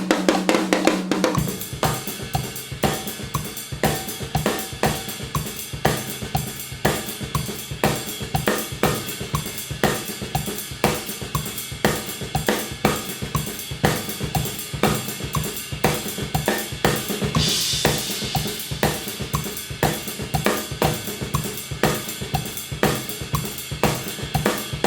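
Drum kit groove with kick, hi-hats, ride cymbal and a snare backbeat, steady and busy with dense even cymbal strokes and regular hits throughout, played alone without talk.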